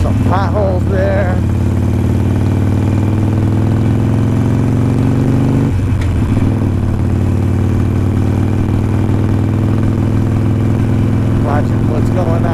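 A motorcycle engine idles with a steady low drone, then pulls away in gear on a road with potholes, its note shifting as it moves off, with brief voice fragments over the top.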